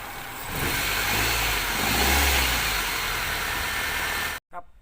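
A Toyota Soluna engine, after a starting problem, runs steadily at idle with a low rumble, rising slightly in the middle, then cuts off abruptly near the end.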